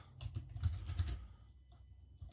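Quick bursts of computer-keyboard typing during an online book search, a dense clatter of keystrokes for about a second, then a pause and a few final taps, close and moderately loud with no talking.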